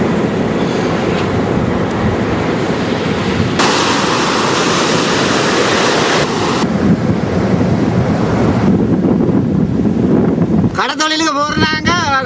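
Rough sea waves crash on the shore in a loud, continuous roar, with heavy wind buffeting the microphone throughout.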